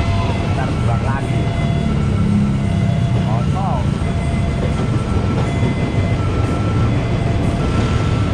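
A loud, continuous rumble of a train passing a level crossing on Jl. Jend. Sudirman, Rangkasbitung, Indonesia, fills the whole stretch, with a few chirpy tonal squeals and people talking faintly beneath the roar.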